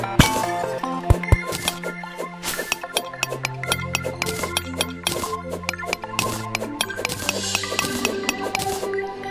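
Digging and breaking blocks underwater in the Terraria video game: rapid chopping and clinking hits in an irregular stream over a busy layer of game music, loud and continuous with no talk.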